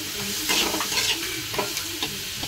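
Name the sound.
ground spices being added and stirred in frying pan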